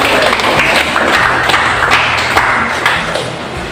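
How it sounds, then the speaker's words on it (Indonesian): Students in a classroom clap for a group after its discussion presentation, a loud, close burst of dense clapping with scattered sharper hand strikes throughout. "mari kita berikan tepuk tangan untuk kelompok"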